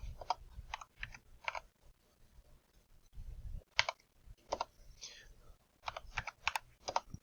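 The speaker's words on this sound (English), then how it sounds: "Got something sticking on my keyboard." Keys clack on a computer keyboard in short irregular bursts of clicks, fairly close and moderately loud, with quiet pauses between runs of typing.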